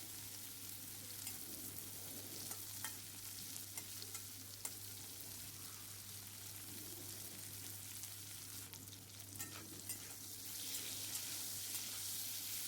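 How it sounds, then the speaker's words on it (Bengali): Cauliflower with a pinch of turmeric is stirred and fried in a pan. The sizzle is steady and close for the whole stretch, with a low constant hum underneath and occasional scrapes of a spoon. No one speaks. "আবারও আমি ভালোভাবে ফুলকপিটা নেড়ে নেব"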